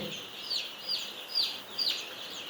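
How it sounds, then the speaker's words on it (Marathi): Ten-day-old Kaveri breed chicks in a poultry shed, several thin high peeps repeating at a steady pace over a soft background hiss, close by and fairly clear. "आपण आता पाहता नऊ ते दहा दिवसाची ही पिल्ले"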